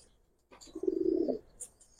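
A Giribaz pigeon lets out one soft, rolling coo lasting about half a second, quiet and near, in an otherwise hushed setting.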